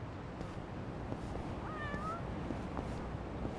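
A cat in Yakuza: Like a Dragon gives one clear meow partway through, set against steady street ambience and light footsteps.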